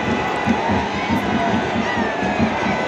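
A vast crowd of devotees packs the Khandoba temple fair at Pal, Karad, a steady loud roar of voices and cheering with rhythmic drumming pulses underneath.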